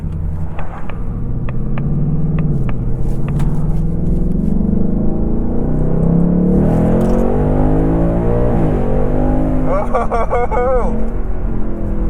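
A 2024 Ford Mustang GT Premium V8 engine rumbles and rises in pitch under acceleration, then drops as it downshifts, heard from inside the cabin, with someone talking over it.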